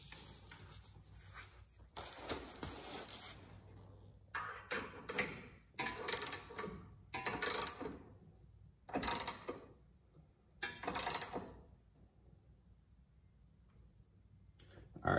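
A socket wrench ratchets on a control arm bolt during a 10th-generation solid bearing install, giving several separate bursts of rapid clicking, close and moderate in volume, with quiet gaps between.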